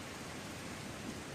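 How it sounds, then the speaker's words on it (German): Steady rain ambience from an old-school MMO video game, a dense, even hiss of falling rain playing loudly and continuously with no voices. "Und jetzt regnet, also der Sound ist viel zu laut jetzt."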